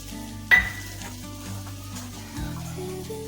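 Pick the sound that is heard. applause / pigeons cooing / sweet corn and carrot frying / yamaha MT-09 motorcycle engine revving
sweet corn and carrot frying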